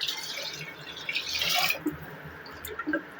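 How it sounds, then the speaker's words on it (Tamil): Water poured into a tomato fish curry masala in a cooking pot, a close splashing, gurgling pour with bright spattering that fades into a few scattered drips. "இப்போ தண்ணி சேர்த்துக்கலாம்."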